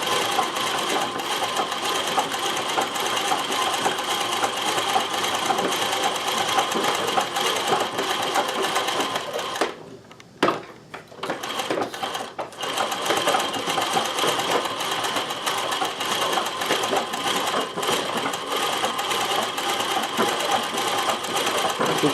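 A Consew CN2053R-1A industrial sewing machine mounted in a domestic treadle table runs at a fairly quick, steady whirring clatter, pausing briefly midway before resuming; close and loud, with no talk.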